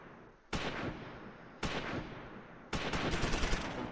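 Gunfire from a Close Combat IV battle in a forest: three sharp, loud shots or bursts, each followed by a long decaying rumble, the last one turning into a rapid rattling volley, with no talk.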